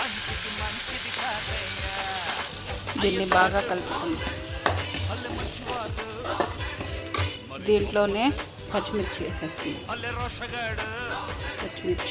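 Mustard seeds and cumin frying in oil for mutton curry, a bright hiss that gives way to popping, crackling and utensil clinks, while a voice talks over much of it.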